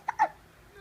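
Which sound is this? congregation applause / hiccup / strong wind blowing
hiccup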